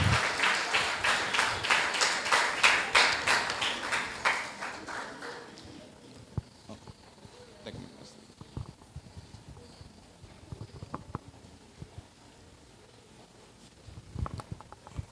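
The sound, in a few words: audience applause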